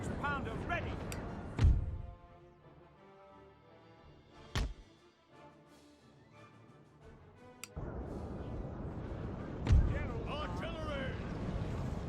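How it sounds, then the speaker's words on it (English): Cannon fire from 6-pounder artillery in Napoleon: Total War: three heavy booming shots spaced several seconds apart, each with a sharp crack and low rumble, over a bed of battlefield ambience and occasional voices. "Artillery."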